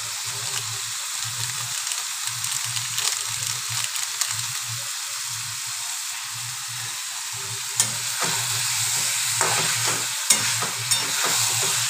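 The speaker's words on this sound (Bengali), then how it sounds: "এবারে কষাবো, ভালো করে মাংসটা কষিয়ে নেব।" Mutton pieces are sautéed in a pan with garam masala, giving a constant close sizzle with repeated scraping stirs and a few sharper clinks near the end; no one speaks.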